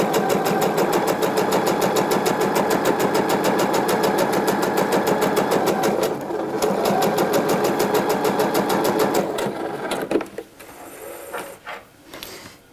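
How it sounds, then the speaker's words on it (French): Close, loud, rapid stitching from a domestic sewing machine sewing gathering threads at a long 4.5 mm stitch, running steadily, briefly pausing, then stopping with a few clicks and handling sounds. "Tant qu'on est à la machine, on va venir piquer les fils de fronce."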